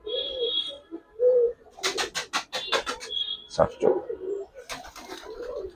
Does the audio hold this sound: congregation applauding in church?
no